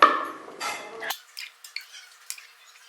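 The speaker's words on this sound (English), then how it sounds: "We have added the dates, and now we can mix them thoroughly in." A spoon works sticky dates mixed with nuts around a hot pan, making close, short scraping knocks that come every half-second or so after an initial louder rustle.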